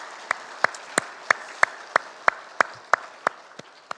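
A church congregation at a Sunday worship service applauds in steady unison, with sharp claps landing at a regular beat about three per second, moderately loud against a quiet room.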